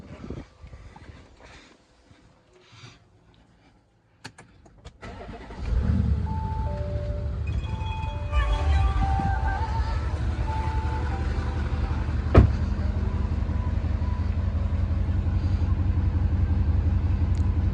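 Quiet idle noise, then the 4.0-litre diesel V8 of an Audi SQ7 SUV starts and settles into a deep, loud, steady exhaust rumble with a brief blip of revs.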